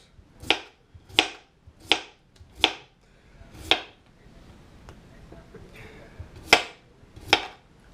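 A knife cuts fresh potatoes into French fries on a board, giving sharp, crisp chops in an uneven rhythm, about eight distinct strikes with brief gaps, close and fairly loud.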